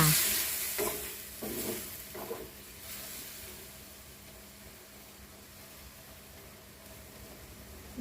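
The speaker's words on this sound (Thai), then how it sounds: "พอบวบเราเริ่มเปลี่ยนสีมีความนุ่ม ก็เปิดฝาแล้วก็ผัดทุกเคล้าค่ะ" Luffa gourd and garlic being stir-fried in a pan, with scraping stir strokes in the first few seconds over a faint steady sizzle that carries on quietly and evenly to the end.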